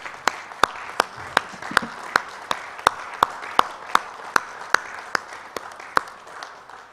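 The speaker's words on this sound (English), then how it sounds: "A big round of applause for the team East Zone and a standing ovation to them" An audience cheers team East Zone at a sports event, with a dense bed of applause punctuated by sharp, evenly spaced loud claps, steady rhythmic beats about every third of a second.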